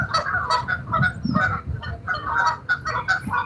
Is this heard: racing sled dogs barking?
no